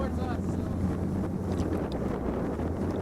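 Wind gusts buffeting a boat as it maneuvers to dock, a steady rushing roar with low engine rumble and microphone buffeting, close and constant.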